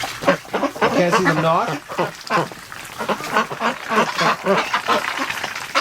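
Ducks in a barn quack loudly and repeatedly at close range, with raspy overlapping calls and a person speaking briefly among them.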